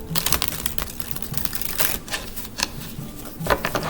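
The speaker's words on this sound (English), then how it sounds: "Let me shuffle these cards." Tarot cards being shuffled by hand, quick papery riffles and taps in irregular bursts, close and fairly loud with no talking.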